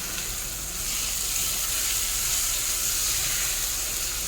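Mung dal being fried with potatoes in a pan, a steady close sizzle and crackle of hot oil that continues without a break, with faint stirring.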